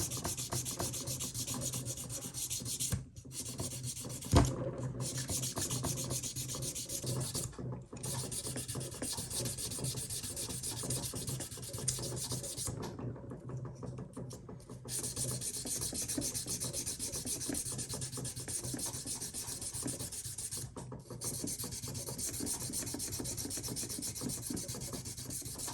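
Guitar frets on a Japanese Strat are sanded with 400, 600 and 1200 grit paper. The rasping rub is close and steady, in long back-and-forth strokes with a few short pauses.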